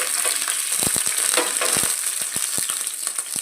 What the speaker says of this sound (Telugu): బాండ్లు పెట్టి కొద్దిగా నెయ్యి వేసి డ్రై ఫ్రూట్స్ వేయించుకుందాం.